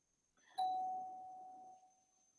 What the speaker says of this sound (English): Somebody bell my door.